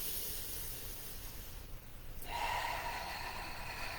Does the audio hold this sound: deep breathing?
yes